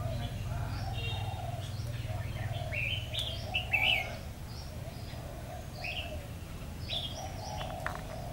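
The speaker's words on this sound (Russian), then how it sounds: "Очень много птичек всяких поет утро" Many birds singing on a morning in Thailand, among trees with orchids: varied chirps, tweets and coos come from several directions at moderate distance over a steady low background hum.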